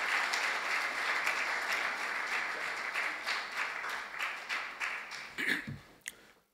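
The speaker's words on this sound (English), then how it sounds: "Please put a round of applause for Mr. Niyi Yusuf as he makes his presentation as our keynote speaker." An audience at an economic forum applauds a keynote speaker. The clapping is thick and sustained at first, then thins into scattered individual claps and fades out near the end.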